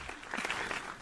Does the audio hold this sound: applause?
yes